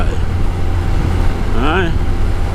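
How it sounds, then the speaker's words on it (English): Road traffic passing, a steady low rumble of vehicles filling the background, with a brief voice cutting in near the end. "What's going on with all this traffic today?"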